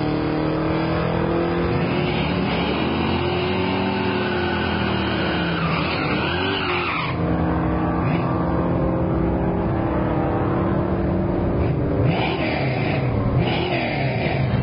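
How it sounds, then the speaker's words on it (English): Drag race launch of a 1995 white Camaro against a big orange Mopar at a Hot Rod Drag Week event in Tulsa, Oklahoma: loud, sustained engine roar with tire squeal, surging and shifting pitch, the engine note dropping away after about seven seconds then continuing steadily. "That's Mark in the 95 white Camaro going against the big orange Mopar. Mopar leaves hard."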